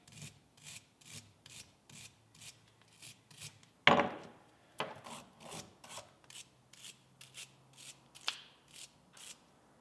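A wire brush scrubs grime off old Yamaha dirt bike parts in steady, evenly spaced rasping strokes, close and fairly quiet, with one sharper clatter partway through and no talking.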